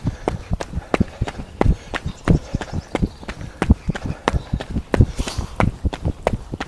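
Running footsteps on an asphalt country road past fields, a steady, fast rhythm of close, crisp impacts repeating throughout without a break.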